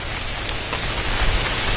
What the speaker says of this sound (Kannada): ಈಗಂತೂ ಮಳೆ ಹೋಯ್ತಾನೆ ಇದೆ.